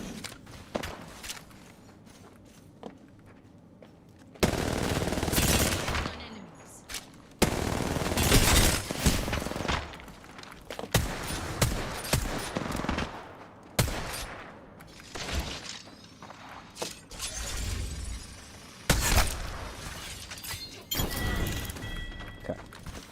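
Gunfire in the video game Apex Legends, bursts of shots and loud impacts in several sections with busy game noise between them and no talk.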